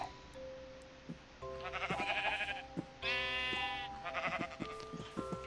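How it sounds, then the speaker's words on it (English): Several Minecraft sheep bleat in short, wavering calls, one after another, with a few clicks and tones in the background. "Oh, sorry, sheep."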